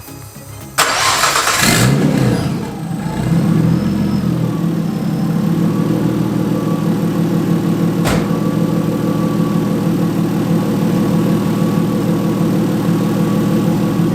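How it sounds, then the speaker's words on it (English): A Nissan S13 with a swapped RB25DET engine cranks and fires up, then settles into a steady, loud idle nearby with one brief blip partway through and no talk. "So I'm gonna start it up and you guys can see how it stays"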